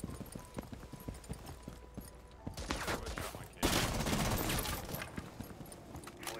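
Rapid gunfire bursts rattle through a video game round, sharp repeated shots that grow denser and louder midway, set under quiet background game noise.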